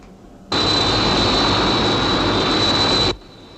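Aircraft taking off as a sci-fi television sound effect: a loud, steady jet-like roar with a sustained high whine starts abruptly, holds evenly for a few seconds, then cuts off sharply.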